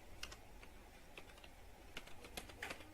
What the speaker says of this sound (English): Right now we use others, and we just type here